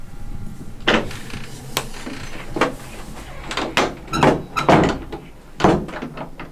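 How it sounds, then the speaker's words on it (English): An interior door in a dark room closes with a series of knocks and thuds, several sharp impacts spread unevenly over a few seconds against a quiet background. "I'm closing the door now."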